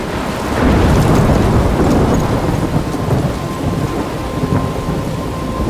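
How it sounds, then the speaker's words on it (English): Thunderstorm in the video game Life Is Strange: heavy rain pours steadily with a low rolling rumble of thunder throughout, loud and close, with no speech. "I'm trapped in a storm?"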